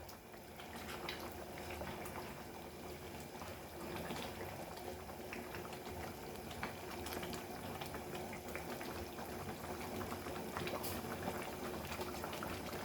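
A pot of Goan pork vindaloo cooks after pressure cooking, giving a continuous low bubbling and hiss that stays steady and faint, with small pops and ticks scattered throughout and no speech.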